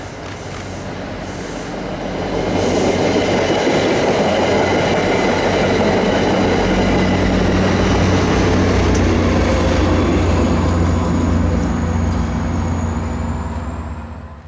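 An Amtrak passenger train passes on the Springfield Line in Connecticut, a loud sustained rumble with wheel clatter and a high squeal building in, holding steady, then easing off at the end, with no voices.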